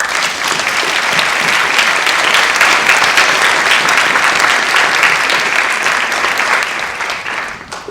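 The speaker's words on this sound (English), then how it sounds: "let's please give another round of applause to the new members of our Academic Honor Societies" Loud, sustained applause fills a school hall for new members inducted into academic honor societies, a dense crowd clapping evenly before tapering off at the end.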